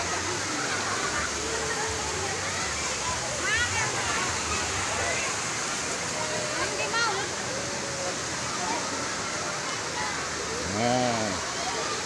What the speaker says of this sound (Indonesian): Sekalipun arus sungainya cukup kencang, cukup deras, tapi tidak begitu dalam